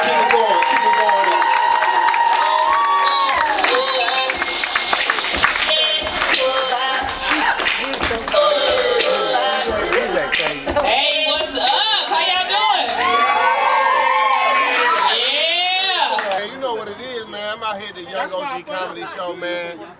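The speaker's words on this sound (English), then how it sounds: "So give a big round of applause for my good friend, Daphonique Spring." A comedy show crowd claps and cheers as a comedian is brought on, with loud whoops and shouts over applause, while an amplified voice talks over the noise before it thins out near the end.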